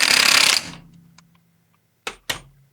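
Last bolt on a car being tightened, a burst of rapid mechanical whirring from a power tool that winds down, followed by two short sharp clicks close by, with no talk.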